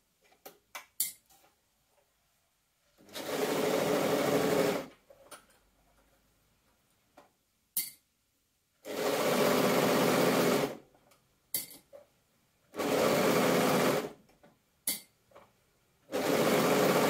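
A domestic sewing machine stitching a sleeve head into an armhole of a stretch-fabric cosplay dress, running in four loud bursts of about two seconds each, separated by quiet pauses filled with small clicks and handling taps.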